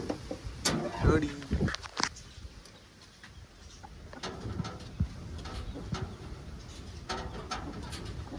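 Pigeons with young cooing softly in repeated low calls near the listener, with a person talking over the first few seconds and faint pattering in the background.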